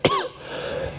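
A single sharp cough bursts out near the mic, followed by a brief throaty rasp, then quiet room tone.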